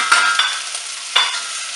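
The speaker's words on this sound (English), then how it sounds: "Give it a nice stir." A spoon stirs onion, coriander stalks, garlic, ginger and chilli gently frying in a pan over low heat, with soft sizzling and a few distinct scraping strokes, close and clear.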